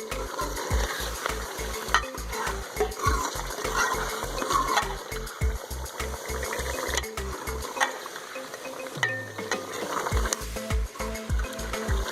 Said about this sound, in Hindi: आलू बैंगन की सब्ज़ी हमने मसाले के अंदर शामिल कर दी है। अब हम 5 मिनट तक अच्छे से भुनाई करेंगे।